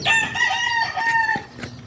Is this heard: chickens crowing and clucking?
yes